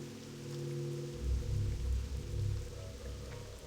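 Rain in the video game WoW Classic, a steady soft patter on surfaces with a low rumbling bed that swells midway, fairly faint and without voices.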